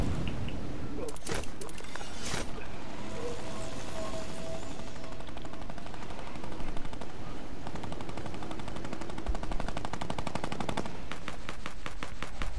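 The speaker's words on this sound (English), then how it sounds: "stop shooting at us" Rapid bursts of automatic gunfire in a playground session of a shooting video game, crackling fast and dense for the whole stretch, with heavier volleys clustered in places.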